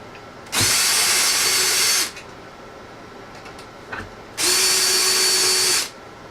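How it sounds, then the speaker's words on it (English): A power drill with a self-centering bit drills pilot holes for a cabinet door on a mobile drill press cart, two loud steady whirring bursts of about one and a half seconds each, separated by a brief pause. "Drill your pilot holes."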